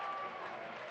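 Applause from a soccer crowd at a Seattle Sounders FC match against Las Vegas Lights FC, a steady broad wash of clapping that holds for under a second without fading.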